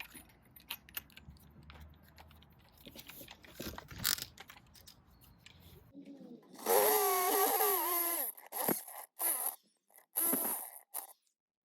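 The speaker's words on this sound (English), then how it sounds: "this is what a step drill bit looks like. As you can see, it has a conical shape, so you just keep going until the hole is big enough" Step drill bit cutting a hole in metal, a whining, grinding bite in several short bursts that starts and stops, preceded by quieter clicks and handling noise.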